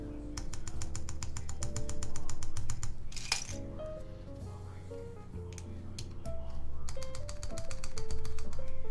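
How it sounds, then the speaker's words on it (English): Keystrokes on a Fjell mechanical keyboard with Gateron Tangerine switches and stabilized keys, a rapid, even run of crisp clacks in bursts with a brief pause midway, close and clear over a low background hum. "let's go ahead and put some stabilized keys on here and check and see if everything sounds good"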